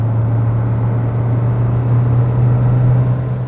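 A SsangYong Korando's 1.6-liter four-cylinder diesel drones steadily from inside the cabin while driving, a constant low hum with road rumble and no talking.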